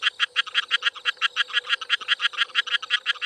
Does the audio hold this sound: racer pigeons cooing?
no